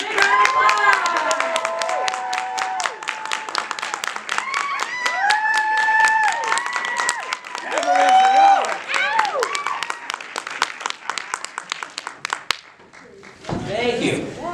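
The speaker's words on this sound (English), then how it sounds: "let's welcome in Dee Bradley Baker. Big round of applause" A fan-convention panel crowd claps and cheers to welcome voice actor Dee Bradley Baker, the clapping mixed with excited voices before a brief pause and a short burst of other noise near the end.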